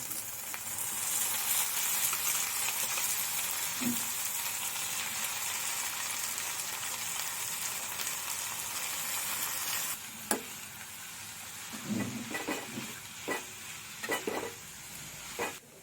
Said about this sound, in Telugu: కడుక్కున్న అటుకుల్ని ఇప్పుడు మనం ఇందులోకి యాడ్ చేసుకోవాలి